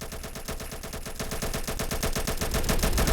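Rapid automatic gunfire rattles without pause in a Roblox war game, a dense, steady stream of shots that grows slightly louder toward the end.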